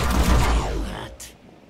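Gunfire at an enemy in the tactical video game Mutant Year Zero: Road to Eden, a loud burst of shots that fades with a reverberant tail, followed by a brief faint clatter.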